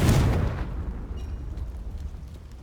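A Confringo blasting spell explodes in Hogwarts Legacy, a loud, broad boom at the start that decays into a long, low rumbling tail with no voices over it.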